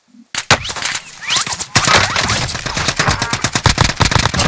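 Loud, close rapid-fire gunshots in a video game, fast cracking bursts that start abruptly after a brief quiet moment and continue densely to the end.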